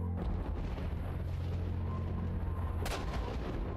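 Gunfire sounds in the video game S.T.A.L.K.E.R. Shadow of Chernobyl, with a sharp, loud shot bursting out near the end over a constant low rumbling game ambience and a fainter crack at the start.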